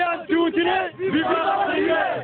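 Algerian football fans celebrate qualifying for the second round of the 2014 World Cup, a close, loud crowd of voices chanting and shouting in rhythmic bursts.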